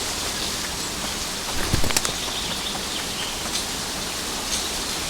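Steady, dense rainfall from the video game Eastshade, a constant broad hiss with a few louder drops and patters near the middle, continuous and without voices.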